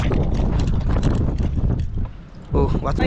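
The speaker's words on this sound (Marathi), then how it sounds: "हवा लई जोरदार सुटली" Strong wind gusting hard against an open microphone, a loud continuous rumbling roar that briefly dips before surging again, with a voice talking underneath.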